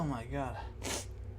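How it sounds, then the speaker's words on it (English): A man's hiccup-like vocal sounds lead straight into a single sharp sneeze, close and fairly quiet, with a low steady background hum. "Hiccups went right into a sneeze, and that was crazy"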